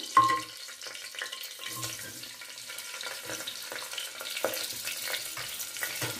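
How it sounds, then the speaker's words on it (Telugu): Onions frying in a pan for vegetable pulao give a steady, close sizzle with occasional stirring scrapes, and no voices are heard. "ఆనియన్స్ బాగా ఫ్రై అయిపోవాలండి"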